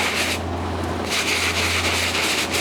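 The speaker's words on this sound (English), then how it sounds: "go in with the stiff bristle brush, dip that in there, start scrubbing, get that lathered up" A stiff bristle brush scrubbing lathered Off-White Jordan 4 sneakers, a loud close rhythmic rasping rub with a brief pause between strokes, no voices.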